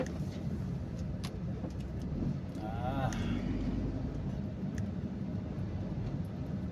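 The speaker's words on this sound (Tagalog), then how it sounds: "Ayan guys, traffic pa rin, mahaba talaga." Cars idle and creep along in a long traffic jam on the road from Batangas to Taguig, a steady close engine and road rumble with a few faint clicks and a brief rising whine.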